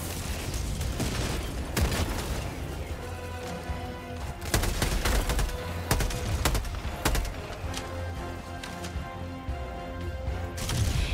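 Grenade blast and heavy gunfire in Helldivers 2 during a solo extreme-difficulty mission against Automaton bots: a dense, loud barrage of rapid shots and booming impacts, crashing continuously throughout with no pause.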